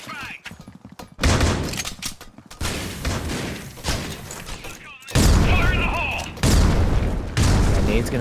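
A grenade goes off in a Critical Ops match at a tournament semi-final, a loud booming burst among heavy gunfire, with caster commentary running underneath throughout.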